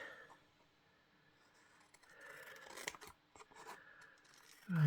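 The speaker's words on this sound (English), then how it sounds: "So I'll just get my scissors" Scissors trimming the edges of paper, soft close snips and rustles scattered irregularly, quiet and faint, with a brief louder noise right at the end.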